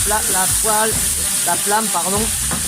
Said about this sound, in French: je vais déglacer un petit peu les légumes. Voilà, avec un peu de vin blanc